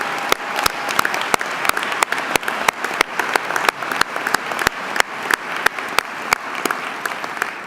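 Graduates are applauded at the UW-Stevens Point winter commencement ceremony in 2017 as a large audience keeps up dense, continuous clapping. Sharp individual claps stand out close by throughout the applause.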